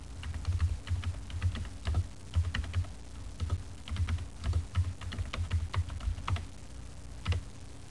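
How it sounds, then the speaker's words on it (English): Keys clatter on a computer keyboard while typing in a word processor, a close, fairly quiet run of irregular clicks and taps in bursts, with no voice present. "To type the business name in all caps, we press the caps lock key and type."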